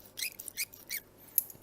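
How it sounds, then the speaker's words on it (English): A key turning in a Lane deadbolt lock gives a run of short, high squeaks in quick succession, fairly quiet and close, with a final sharper squeak near the end and no voices. "Okay, so the keys turn nice and easy in this lock. No problems there, not clicky at all. Bit squeaky."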